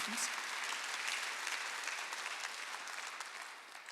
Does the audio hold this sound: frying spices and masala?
no